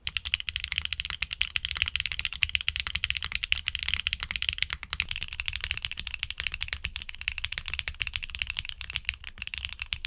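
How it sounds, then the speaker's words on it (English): Typing on a mechanical keyboard with HMX Poro switches, a rapid, steady stream of bright, moderately quiet key clicks, close and continuous with no talk. "The Poros offer a bright but moderate sound profile with a lower volume level."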